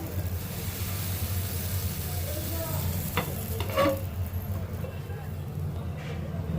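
Patisapta batter goes onto a well-heated pan, giving a steady soft sizzle with a few brief scraping clicks partway through.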